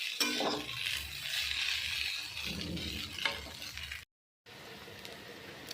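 Egg chicken chowmein ingredients stirred and tossed together in a lightly oiled pan, a steady sizzle with scraping spatula strokes throughout, broken by a brief silent gap near the end before the frying resumes.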